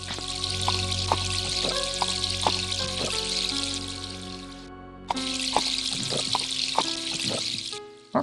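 Water splashing and trickling in the 1995 dungeon crawler video game Stonekeep, a steady burbling layer under tonal game music with a brief break midway, moderately loud and alone.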